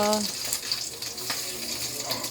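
Food frying in a home kitchen, with a steady broadband sizzle running throughout at close range and a few faint tonal voices or cat sounds near the start.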